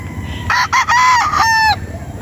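A brood stag rooster of a high-action gamefowl line crows loudly and close, one drawn-out cock-a-doodle-doo lasting about a second and a half, over low background rumble.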